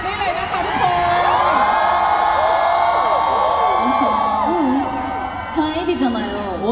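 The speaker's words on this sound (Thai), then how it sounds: "ส่งเสียงกรี๊ดดังๆได้เลยนะคะทุกคน" A concert crowd at a sound check in Bangkok screams and cheers loudly and steadily, with high shrieks and whoops layered over a dense roar that fades a little near the end.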